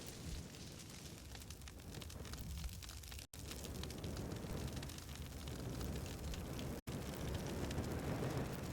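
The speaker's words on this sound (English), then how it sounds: "it's just a single strip of fire." A single strip of fire burns in a custom DOOM 2016 map, giving a steady, dense roar and crackle that holds a constant level for about nine seconds, broken only by two brief dropouts.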